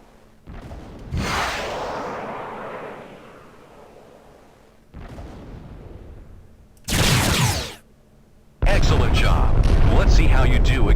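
Harpoon missiles fired at a transport in the space combat game Freespace 2, heard as loud whooshing launch bursts and booming impacts in separate blasts, the last ones dense and sustained.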